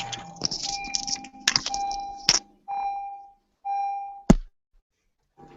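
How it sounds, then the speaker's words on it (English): Two steady electronic beeps sound one after another, followed by a sharp thunk, with some tonal noise and clatter before them. "Okay, quit beeping."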